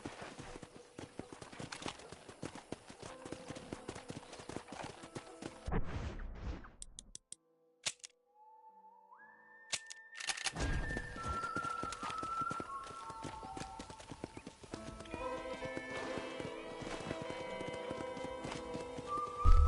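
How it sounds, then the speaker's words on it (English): Horse hooves clip-clop in the Red Dead Redemption video game, with a steady rhythmic trot mixed with game music and ambience, a short near-silent gap partway through, then hoofbeats and musical tones resuming. "I picked out a fine horse for you."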